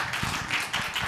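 Studio audience clapping on the Superstar 2 singing contest show, a brief burst of steady applause with some distinct individual claps standing out.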